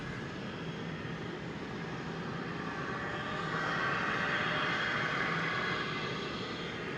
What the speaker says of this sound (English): An Airbus A321 Neo. Took off just about 3 hours ago, and it's circling around again.